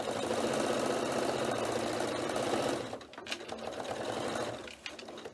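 Sewing machine stitching up the side of a fabric notebook cover, a close steady whir for about three seconds, then it stops and quieter handling sounds follow.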